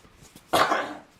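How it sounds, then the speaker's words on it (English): A single short, harsh cough bursts out after a moment of quiet, close and fairly loud, then fades. "Sorry about that, little cough."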